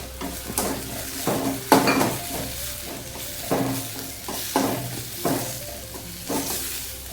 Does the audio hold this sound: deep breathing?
no